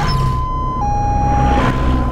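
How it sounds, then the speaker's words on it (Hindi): A siren in a dubbed Hindi film comedy scene is most likely an ambulance arriving. It holds one steady wailing tone that steps down partway through. The siren plays loud over a dense backdrop of low traffic and crowd noise. "एम्बुलेंस भी आ गई?"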